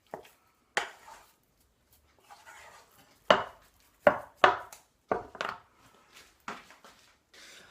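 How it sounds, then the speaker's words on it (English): Choux pastry dough being mixed vigorously in a saucepan off the heat, giving irregular thick scraping and slapping bursts from a spoon against the pan, close and fairly loud with quiet gaps. "we're just giving this a really good mix, okay, so everything is mixed in, all that pastry"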